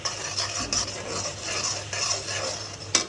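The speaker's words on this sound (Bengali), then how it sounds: "মশলাটা ভালো করে কষাতে হবে।" A spoon scrapes and stirs spice masala with turmeric and dried chilli powder frying in a pan for a thin gulsha fish curry with bitter gourd, a steady rasping rub with faint sizzle and occasional sharper scrapes, no voices.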